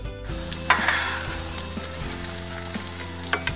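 Chicken burger mixture frying in a pan and being stirred well, a close steady sizzle with scraping spoon strokes and a few clinks against the pan, fairly loud with a low hum underneath.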